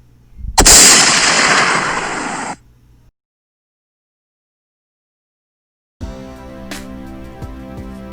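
A single loud, close gunshot rings out in a 2020 hood movie, a sharp blast with a short noisy tail, followed by dead silence and then low music.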